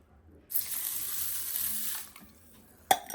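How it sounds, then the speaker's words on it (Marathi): Water pours steadily from a glass into a vessel of rice and lentils for about a second and a half, then trickles off, followed by a brief clink near the end. "आपल्याला ह्याच्यात एक ग्लास भरून पाणी टाकायचं आहे"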